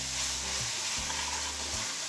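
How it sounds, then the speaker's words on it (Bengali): Onion with ginger-garlic paste fries in a pan for a spinach and shrimp curry, giving a steady close sizzle with a few low scraping strokes of a stirring spoon, no talking. "এখন আবারও সব কিছু ভালো করে আমি নেড়ে নিচ্ছি।"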